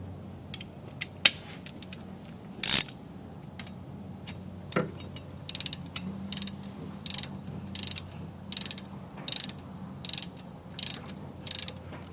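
A hand ratchet clicks away tightening bolts on a 1966 Belvedere Hemi engine, starting with scattered single clicks and settling into a steady run of short ratcheting bursts, close and fairly quiet.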